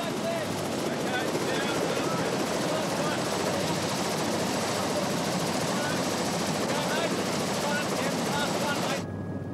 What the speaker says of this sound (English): But offloading must now be done by chopper.